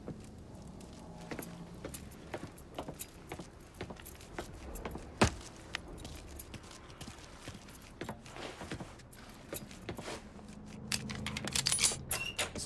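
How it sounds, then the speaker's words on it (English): Soft footsteps and small clicks and rattles as a set of truck keys is picked up in Mafia III, scattered light taps across a quiet background with a sharper knock near the middle and a busier cluster of movement at the end. "Lincoln, pick up the keys."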